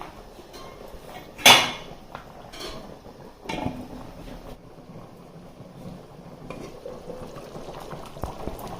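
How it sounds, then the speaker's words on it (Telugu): Fish curry with masala and jaggery simmering in a covered pot, with soft bubbling and gurgling throughout, a sharp metallic clank early on, and a few quieter knocks, with no talking. "ఇదిగోండి ఆయిల్ బయటకు వస్తుంది, చూసారా ఎలా ఉడుకుతుందో."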